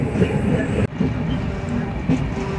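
A Bhubaneswar–Rameswaram weekly express pulls into Karaikudi junction station at night, giving a steady, loud rolling rumble with faint clatter and one brief sharp break in the noise.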